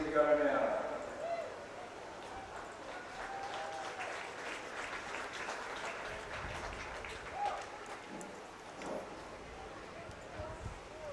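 A crowd applauds at an athletics meet at Cook's Gardens during the Cooks Classic and NZ Mile Championships, a swell of clapping at the start settling into steady, moderately distant applause with a commentator talking over it.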